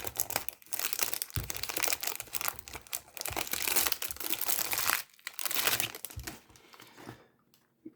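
Cardboard and plastic wrap crinkle and tear as Nautica Voyage perfume packaging is opened and unwrapped up close, in a run of dense rustling bursts that fade to quiet at the end.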